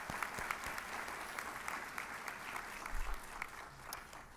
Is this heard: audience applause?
yes